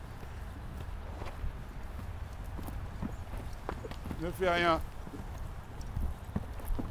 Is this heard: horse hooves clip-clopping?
yes